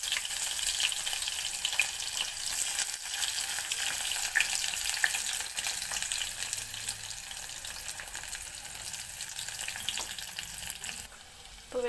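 Onions are added to a pan where garlic and green chillies have already softened, and they give a steady, moderately quiet hiss of sizzling oil that lasts throughout, with occasional faint clinks.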